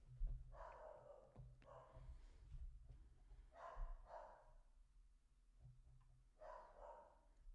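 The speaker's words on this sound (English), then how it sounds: "not sure if y'all can hear my dog in the background, but he's driving me insane." A dog barks in the background of a house in short repeated bursts, fairly faint and somewhat distant, with quiet gaps between each run of barks.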